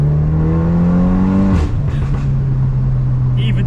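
A Stage 3 tuned VW Mk8 Golf R with four-wheel drive launches on a forest road, its engine droning loud and close, rising steadily in pitch before a sharp shift break, then pulling on again under load.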